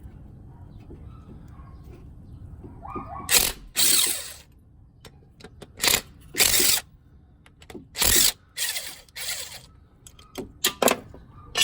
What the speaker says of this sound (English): Next is remove the 3 bolts, 13 millimeter.